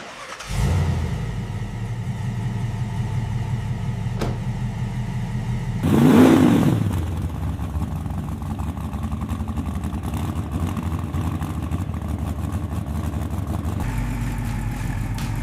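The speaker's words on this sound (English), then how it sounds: "Temperature rising smoothly, oil pressure good, water pump and alternator working perfectly, engine warm, all systems nominal" A restored 1976 car engine cranks and catches, settling into a steady rumbling idle with one brief rev partway through. It is close and fairly loud, with no voices.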